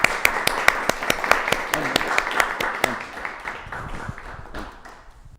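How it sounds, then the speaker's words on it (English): Audience applause for a performer named Adnan at a Wee Poets 33rd anniversary show, sharp rhythmic claps over a dense wash of clapping that fades over about five seconds. "So let's give Adnan a big round of applause."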